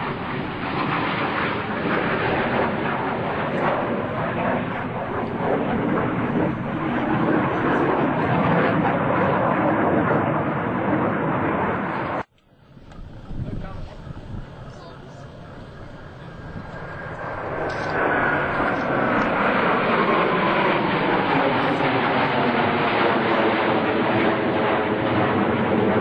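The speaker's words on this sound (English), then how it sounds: "Approaching center point, they'll roll their aircraft 270 degrees in section." US Navy Blue Angels jets at the 2003 Dayton airshow fly a formation roll: a loud, sustained jet roar fills the air, cuts out abruptly midway, then swells back with a sweeping pass.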